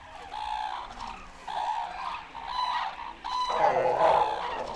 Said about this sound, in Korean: 이곳의 주인인 두루미는 물론 까마귀와 흰꼬리 수리도 모여든다.